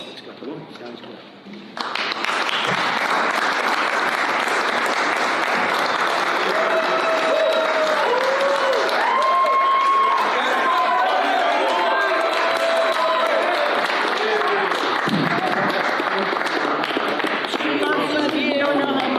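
Live crowd bursting into sustained applause and clapping, loud and continuous after a brief quieter start, with scattered cheers and voices mixed in.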